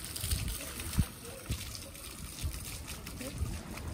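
Water playground fountains in a park trickling and splashing, with soft bursts of spray over a steady wet wash and a person talking in the background.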